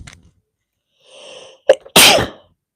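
A single loud sneeze up close, preceded by a sharp inhaled breath and a brief catch, then the explosive burst fading to quiet.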